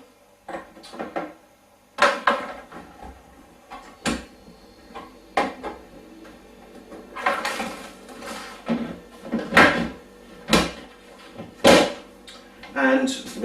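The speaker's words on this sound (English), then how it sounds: "I'm going to put the lid on." Plastic lid pressed onto a home fermenting bucket of spirit wash; a series of close, sharp knocks and clicks in irregular bursts as it is seated, with a person talking in between.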